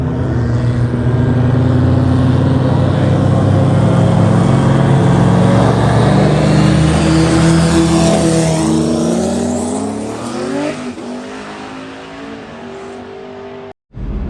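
Toyota 2JZ-swapped Camaro on nitrous launching in a roll race, a loud sustained engine roar climbing through gears before tapering off and briefly cutting out near the end.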